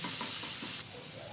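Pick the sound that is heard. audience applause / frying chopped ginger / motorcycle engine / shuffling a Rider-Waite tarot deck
frying chopped ginger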